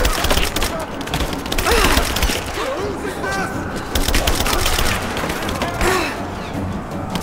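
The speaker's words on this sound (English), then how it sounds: "That's so much firing." Heavy, rapid bursts of automatic gunfire in the game Rise of the Tomb Raider, loud and continuous with thuds mixed in and a voice talking underneath.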